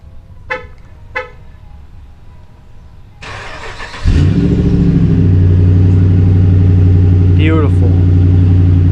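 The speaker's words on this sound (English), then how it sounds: "Here's a 2008 Hemi for you" A 2008 Dodge Hemi truck with a Flowmaster exhaust cold-starts loudly after a few brief sounds, its engine catching with a sharp crank and then settling into a deep, steady idle that fills the rest of the clip.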